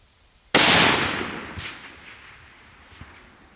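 A single sharp rifle shot cracks out with a loud sudden onset, followed by a long rolling echo that fades across the distance, with a faint thump near the end. The shot is fired at a woodchuck 640 yards away.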